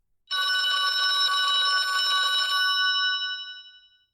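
A telephone bell rings in one continuous bright electronic trill, loud and alone, then stops and fades out over the final second.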